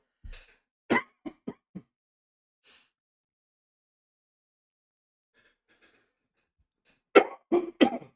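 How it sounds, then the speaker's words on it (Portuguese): A few sharp throat clears and coughs up close, then quiet, followed by another burst of throat clearing near the end. "Eita, pigarro."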